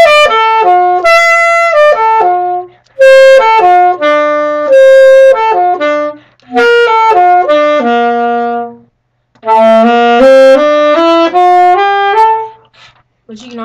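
A saxophone plays a riff, a bright solo melody of clear sustained and stepping notes in several phrases separated by short pauses, close and loud with no talking.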